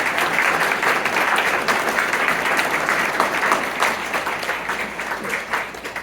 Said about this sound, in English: So a round of applause to Debbie Franz for pulling together